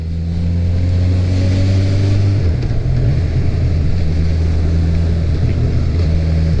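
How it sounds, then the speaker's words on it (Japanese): A 2018 Honda CB1000R's engine drones loudly and steadily while riding, with a strong low tone that shifts pitch partway through as the revs change, accompanied by rushing wind noise. "やっぱりね、エンジンがすごく軽やかだし、"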